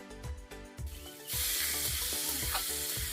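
Water poured into a pan of fried potatoes bursts into a loud, steady hissing sizzle, preceded by a few soft stirring knocks and a quieter fry.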